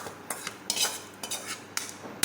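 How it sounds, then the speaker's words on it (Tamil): Metal utensils clink and scrape against a pot as hot tempering goes into a chicken curry and gets stirred, several short bright knocks spaced irregularly over a couple of seconds, close and moderately loud. "நம்ம இப்போ வந்து தாளிச்சதை வந்து அப்படியே இந்த குழம்புக்குள்ள ஊற்றிடலாம்"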